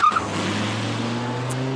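A car pulls away after striking a dummy, a brief squeal giving way to a steady engine drone that carries on close and fairly loud, with no voices.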